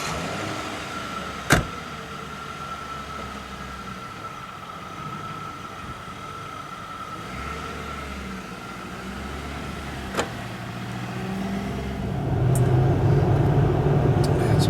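A 2006 Mercury Grand Marquis sets off on a test drive with a low, steady interior engine hum and faint road noise, a couple of sharp clicks, and a louder rumble building as it accelerates near the end.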